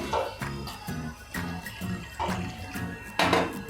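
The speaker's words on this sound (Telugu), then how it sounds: "మూడు కప్పులు పాలు పోసాను" Milk poured into a cooking pan, a gurgling liquid stream in several uneven bursts, close by and without talk.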